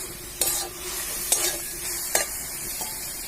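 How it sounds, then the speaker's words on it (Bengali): Spiced cabbage curry frying in a pan, with three distinct spoon strokes scraping and stirring over a steady sizzle, close up and with no voices. "দেখুন, ভালোভাবে বাঁধাকপি তরকারিটা কষা হয়ে গেছে।"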